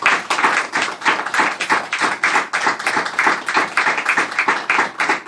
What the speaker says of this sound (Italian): vi invito a fare un applauso a Carlo Serrano, Beatrice Achille e Giovanni Zacchini